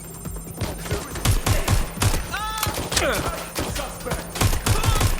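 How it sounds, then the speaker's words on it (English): Rapid bursts of gunfire in the video game Watch Dogs Legion, with repeated loud, sharp shots in clusters among thuds and electronic blips, and a voice speaking briefly over the fighting. "Incoming fire! Get everyone down!"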